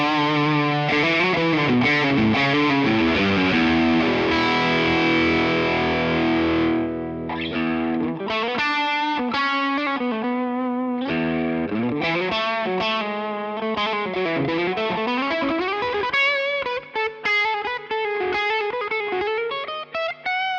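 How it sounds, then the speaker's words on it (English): Electric guitar played through a ToneX amp profile with reverb added: an extended passage of distorted chords and sliding melodic lines, loud and continuous, with short gaps between phrases and no speech. "Give it a little bit of reverb."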